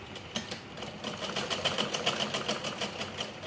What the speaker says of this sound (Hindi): और इस पर डबल सिलाई चलाएंगे।